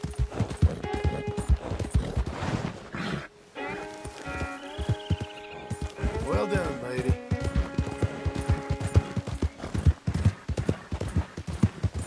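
A horse walks along with steady, close hoof clip-clops throughout, while a person speaks softly to it and a few whinny-like tones rise in the background.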